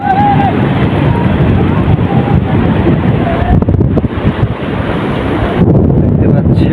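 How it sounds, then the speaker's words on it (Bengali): Sea surf rolls in at Inani Beach in Cox's Bazar, with waves washing steadily over the sand. Heavy wind buffets the microphone and masks much of the water, and a voice is heard faintly at times. "এটা হলো ইনানি বিচ কক্সবাজারের। দেখেন স্রোত"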